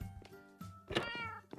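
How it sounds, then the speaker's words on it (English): A house cat meows several times in the background of a Minecraft play session, the calls fairly close but soft, with no talking over them. "The kitty is doing stuff in the background."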